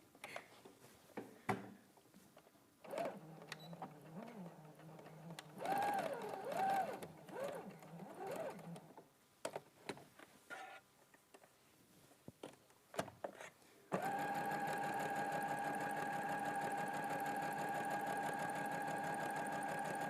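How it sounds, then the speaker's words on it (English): A sewing machine stitches down a seam allowance in short, uneven runs of whirring, then settles into a steady, continuous hum for the last several seconds, with faint handling clicks between bursts. "And then I'm just going to sew that in."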